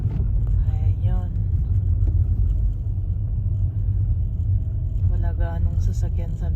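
Car driving on a snowy road during a Canadian snowstorm, a steady low rumble throughout with someone talking over it.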